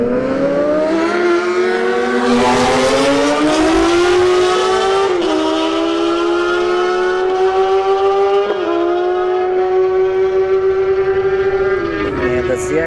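A Suzuki Gixxer 1000 motorcycle on a drag racing run screams loudly through rising gears, with sharp shift breaks and a sustained high-revving wail close by.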